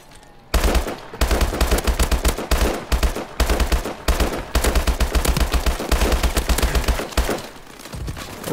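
Rapid bursts of automatic gunfire from a shooter video game, played by a father against his kids, crackle loud and close in dense stuttering volleys with short gaps, running almost without pause.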